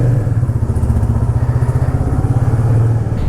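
A Royal Enfield Classic 350 motorcycle, loaded with luggage, idles up close in a loud, steady thumping rhythm of single-cylinder pulses that swells slightly near the end.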